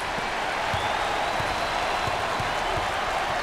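Crowd at a college basketball game between Marquette and UCLA at the Maui Invitational, applauding in a dense, steady roar of clapping and cheering that fills the whole moment.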